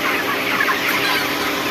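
Broiler hens clucking and murmuring as a group in hot weather, a steady busy chatter with a broad hiss of spray running underneath throughout.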